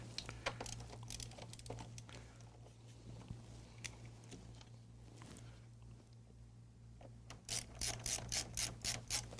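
A ratcheting screwdriver drives a screw during the refurbishment of a Data General Dasher terminal. Soft clicks come in short bursts over a low hum, ending in a fast, loud run of ratchet clicks.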